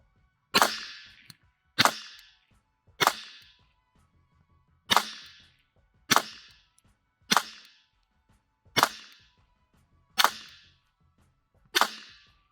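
A GSG 1911 pistol in .22 LR fires nine sharp, loud shots one after another at a steady, fairly quick pace, with a short decaying echo after each report and no talk.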